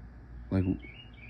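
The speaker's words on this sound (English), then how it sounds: "This bird out here. It is 11 o'clock at night." A bird calls outdoors late at night, around 11 pm: one short, faint, rapid fluttering chirp lasting about a quarter second, rising briefly above a quiet background hiss.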